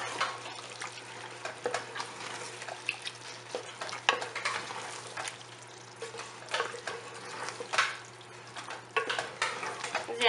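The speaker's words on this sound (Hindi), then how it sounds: "दालें डालकर हम इसको थोड़ी देर के लिए भूनेंगे दालों को।" Lentils roasting in a pot for haleem make quiet, uneven scraping and stirring rustles with soft clinks and a faint frying hiss, all close by and without talk.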